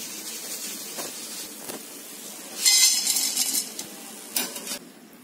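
Boondi is scooped out of hot frying oil with a metal spoon, giving scattered clinks and scrapes against the pan over a soft oily sizzle, with no talking.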